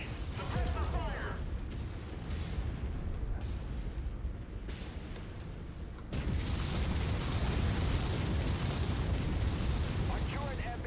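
A turret air base is destroyed by explosions in the MechWarrior 5 video game: continuous heavy booming and rumbling blasts fill the clip, swelling louder midway, with voices heard beneath the din.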